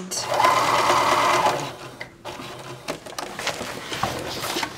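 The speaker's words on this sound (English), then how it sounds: "I can go from one corner to another, stitching my way on down" A sewing machine runs a fast, steady stitching burst while topstitching purse handles in an X pattern, then it slows into a few short, softer runs and clicks, heard close up.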